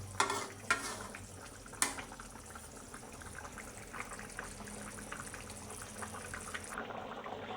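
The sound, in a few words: stirring fish and vegetables cooking in a pan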